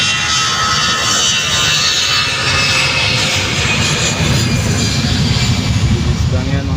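A fast, very loud airplane roars past nearby, its engine rumble and whine filling the scene throughout.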